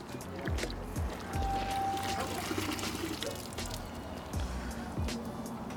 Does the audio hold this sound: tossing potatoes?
no